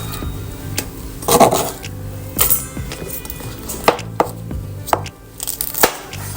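Knife chopping chili peppers on a board, sharp irregular taps and thunks spaced out over several seconds, close up, no speech.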